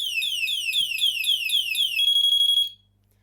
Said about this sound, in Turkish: Alarm sesi gibi de var.